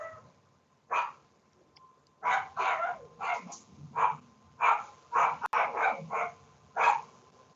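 Dog barking excitedly in the background, a dozen or so sharp barks in irregular bursts with short yips between, somewhat distant and reverberant, no voices over it.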